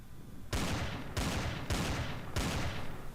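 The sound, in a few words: gunfire in the video game Empyrion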